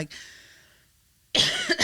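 A single harsh cough bursts out close by after a brief breathy sound and a moment of quiet.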